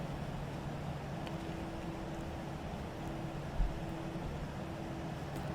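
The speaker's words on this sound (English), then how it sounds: "I'm going to be quiet for the departure so you can listen to the beautiful engine sound of these CFMs." CFM engines of an Aerosoft A319 in the Prepar3D flight simulator at departure, giving a steady low droning hum with a faint tonal whine that holds level throughout and carries no talk.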